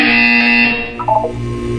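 A loud, sustained electronic buzzer tone in the video game Portal 2 holds for under a second, then fades into softer wavering tones and a low hum.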